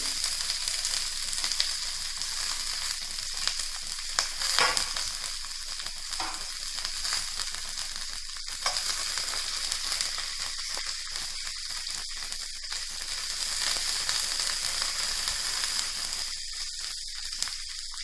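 Onion, cabbage and carrot stir-fry together over a full flame for veg Hakka noodles, giving a steady, loud crackling sizzle that runs without a break from start to finish, with no voices.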